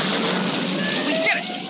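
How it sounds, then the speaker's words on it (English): Steady rain falls in a 1963 Tennessee Tuxedo cartoon, a dense continuous hiss of water that stays loud throughout, with a faint tonal sound rising briefly near the end. "We did it. We made it rain"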